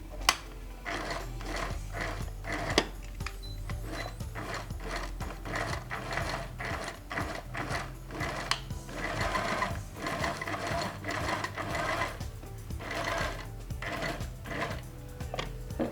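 A sewing machine runs zigzag stitches on a native trouser, with a steady rapid mechanical clatter of needle and gears that continues throughout, close and alone.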